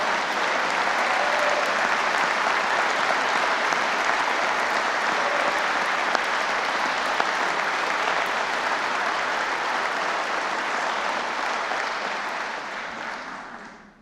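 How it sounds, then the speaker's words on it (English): Loud, sustained applause from a large crowd at the Kentucky State of the State address, steady clapping throughout that fades away at the very end. "Let's give a big round of applause for Feeding Kentucky"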